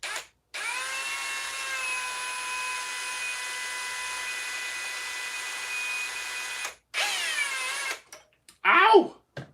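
A power drill runs with a bit in metal armour work, whining steadily for several seconds, then pausing, followed by a second shorter burst and brief rough grinding at the end.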